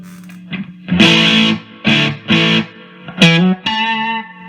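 Loud, punchy electric guitar chords are struck in short bursts with pauses between, sounding boosted and slightly overdriven through a MOSFET front-end boost pedal.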